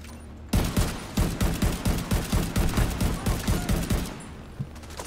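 Rapid automatic gunfire in the video game The Division 2, a loud sustained burst of evenly spaced shots lasting about three and a half seconds before stopping, heard alone without talk.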